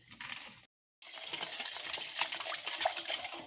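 Ice cubes clink and rattle as they drop into a glass of sharbat made with plum syrup and black salt, a few close, sharp knocks and jingles in a quiet kitchen.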